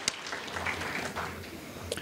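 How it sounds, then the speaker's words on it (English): An audience at an indoor soccer cup event breaks into brief applause, a short burst of clapping with some voices mixed in. "give him a round of applause"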